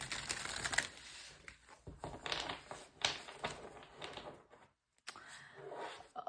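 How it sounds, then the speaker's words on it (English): A deck of tarot cards is shuffled close by, giving soft, papery riffles and shuffles in uneven bursts, with a brief pause before the shuffling resumes. "let's give it a quick shuffle."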